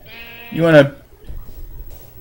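A sheep in Minecraft lets out a single loud, wavering bleat up close, followed by faint low background noise.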